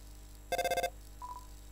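Telephone ringing in the video game Undertale: a short, bright electronic ring of several rapid pulses, followed by fainter, scattered tones, with no speech.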